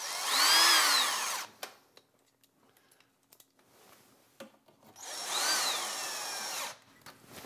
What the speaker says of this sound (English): And we'll replace all 5 screws.